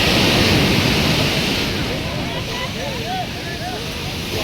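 Strong sea waves surging and crashing in a steady, loud roar of surf and wind noise that holds throughout with no pause, close by the shore.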